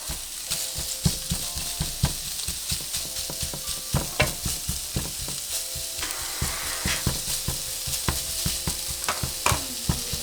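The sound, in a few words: chorizo sausage frying and being broken up in a pan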